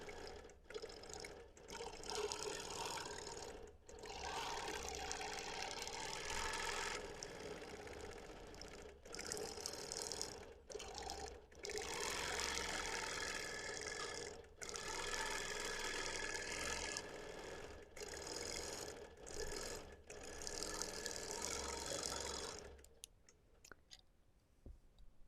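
A sewing machine runs steadily while stitching a scrappy vintage quilt top with thick seams, a loud continuous motor whir in long bursts broken by brief pauses, then stopping near the end with no talk.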